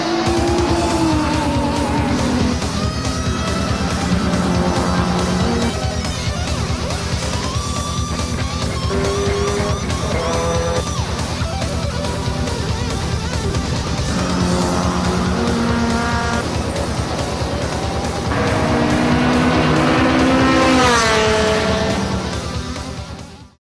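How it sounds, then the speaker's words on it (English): Race cars, including a 1999 Nissan S15 Silvia, howl around a circuit, with loud engines rising and falling through repeated gear changes and passes. Tire squeal breaks through at moments, and the roar swells near the end. "I'm here at a circuit today where a race is about to go on"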